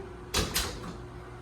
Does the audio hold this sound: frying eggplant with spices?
no